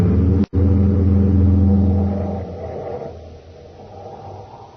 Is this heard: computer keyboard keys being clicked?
no